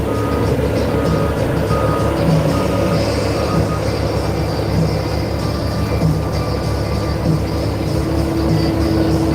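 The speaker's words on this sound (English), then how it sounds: "Watch the John Deere 450 do its work." A John Deere 450 machine works steadily with a continuous diesel engine drone, while a reversing alarm beeps repeatedly over it. The sound is loud and close throughout.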